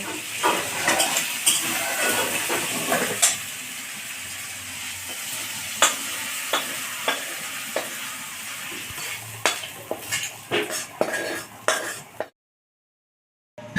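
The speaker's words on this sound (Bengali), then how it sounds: "চিংড়ি মাছগুলোকে বেশি লাল করে ভাজবো না, হালকা লাল করে ভেজেছি" Prawns frying lightly in a wok-style pan, a close steady sizzle broken by repeated stirring scrapes and clatters, ending abruptly in silence near the end.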